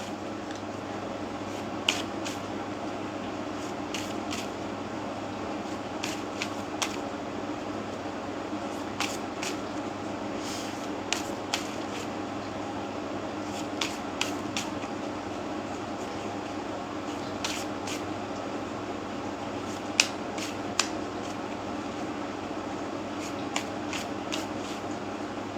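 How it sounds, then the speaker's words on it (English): Tarot cards are shuffled at close range, giving a soft steady riffling hiss with small sharp flicks and snaps scattered throughout, quiet and without talk. "I'm going to be shuffling, pulling a card."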